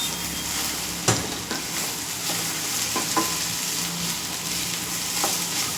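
Boiled chickpeas frying in a pan, a steady close sizzle with a few distinct scraping knocks of a spoon stirring through them.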